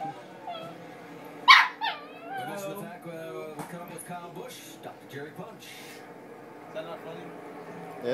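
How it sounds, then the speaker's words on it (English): A dog barking, yipping and whimpering in short bursts, with one sharp loud bark near the start, heard over continuous talking. "The Hitler-hating dog."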